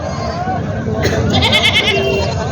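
Village goats bleating at a weekly Tuesday goat market in Vasmat, several loud nearby bleats rising over crowd chatter and someone talking.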